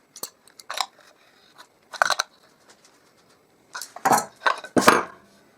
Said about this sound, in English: I put another washer and the self-locking nut